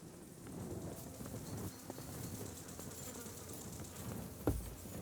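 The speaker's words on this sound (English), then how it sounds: "Those are my bees." Steady, busy buzzing of a bee swarm in Kingdom Come: Deliverance II fills the scene, with a dull noisy rumble beneath and a brief thump near the end.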